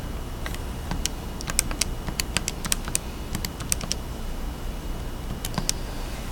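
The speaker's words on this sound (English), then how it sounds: "Go ahead and type that in." Fingers tap numbers on a computer keyboard for a calculation, sharp separate key clicks coming in quick bursts over a low room hum with short pauses in between, no voices.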